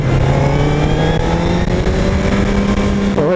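Honda CBR 1000 RR Fireblade sport motorcycle engine revving hard on the Interlagos racetrack, a loud, steady high-pitched engine note climbing slowly in pitch throughout, with a brief shift near the end.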